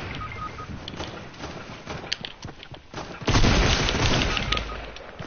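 Pistol shots in a first-person shooter game, a series of sharp cracks scattered through the clip, then a louder burst of noisy blasts near the end, with faint game sounds around them.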